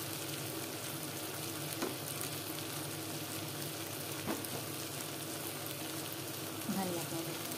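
Tomato masala frying in a pan as red chilli powder, turmeric and cumin powder go in, a steady close sizzle with a few faint scrapes of stirring.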